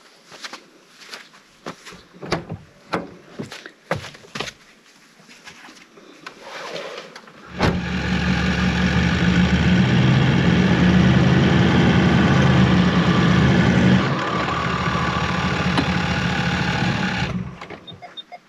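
A 4x4 stuck in sand with both diff locks engaged: after some scattered clunks and knocks, the engine revs hard and steady for about ten seconds as the wheels spin, then cuts off.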